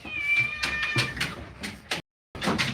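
A cat meowing close to the microphone, a long drawn-out yowl followed by several shorter meows in quick succession, with faint taps in the background.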